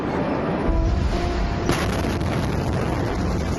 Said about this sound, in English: Blasts that shook a city and injured thousands.